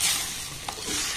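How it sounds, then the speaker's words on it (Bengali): Blended flat bean paste is stirred and fried in a pan over low to medium gas flame, with a soft continuous sizzle and a sharp scrape of the spatula partway through, close and with no talk. "এবার শিমটাকে আমি নাড়াচাড়া করে খুব সুন্দর করে কষে নেব"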